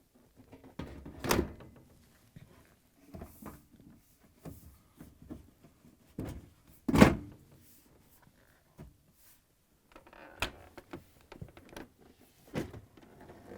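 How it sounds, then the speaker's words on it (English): Several separate clunks and thumps of a Bosch dishwasher door panel being handled and fitted, with two louder knocks and quieter rattles between them, no talking. "Install the door panel."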